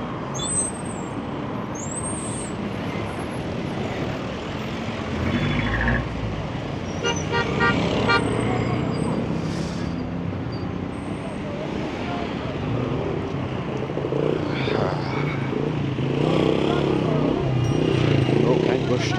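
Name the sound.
traffic at a Kabul city intersection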